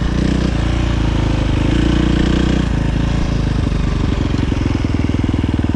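KTM 350 XC-F dirt bike, fitted with a Vortex ECU tune, running loud and close as the throttle is worked, the engine note rising and dropping with a steady rapid firing pulse throughout.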